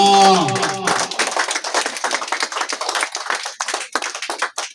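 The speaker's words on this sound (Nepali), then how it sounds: "यतिखेर चाहिँ तपाईहरुले ताली चाहिँ पड्काइदिनुहोस्" Audience clapping at a Christmas gift distribution event, brisk and fairly close, starting right after a brief voice and continuing as quick irregular claps.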